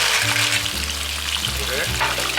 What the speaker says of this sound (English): So a little bit garlic and color.